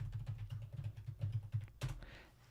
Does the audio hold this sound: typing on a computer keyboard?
yes